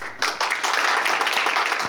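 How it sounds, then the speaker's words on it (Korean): An audience at a Daejeon child welfare forum claps to welcome a professor to the podium, a small room's fairly close, uneven claps coming in quick bursts. "시청하는 모든 분들께서는 각자의 자리에서 큰 박수로 환영해 주시면 감사하겠습니다."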